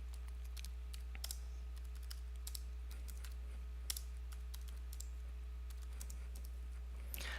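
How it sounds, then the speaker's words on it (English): Continuous typing on a computer keyboard while entering numbers into a spreadsheet, with irregular close key clicks over a steady low electrical hum and no talking. "I'm just going to go ahead and type a random data set in."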